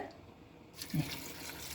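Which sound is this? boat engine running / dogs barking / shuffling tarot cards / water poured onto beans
water poured onto beans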